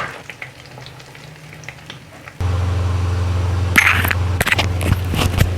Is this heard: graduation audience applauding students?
no